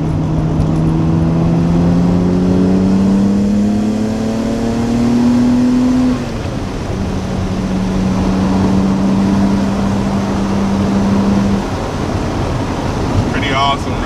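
A twin-turbo Nissan Skyline GTR R32 making about 500 horsepower revs up in a rising sweep, settles into a steady drone and then cuts off, with wind buffeting throughout and no clear pops.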